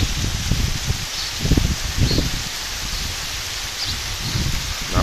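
Heavy rain on a flooded stretch of the Bhagamandala–Napoklu road, a constant broad hiss with intermittent low rumbling gusts and rustling bursts, fairly loud and unbroken throughout.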